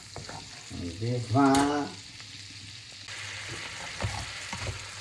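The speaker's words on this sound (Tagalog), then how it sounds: "Tapos ginisa na natin yung ating ahos." Garlic sautéing in melted butter in a pan, a steady frying hiss with a louder sizzling burst near the start, close by, while a voice briefly speaks.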